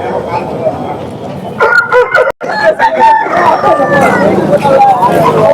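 A rooster for sale at the busy Saturday sheep and livestock market in Baireddipalli crows loudly up close, its calls rising over a steady hubbub of people talking.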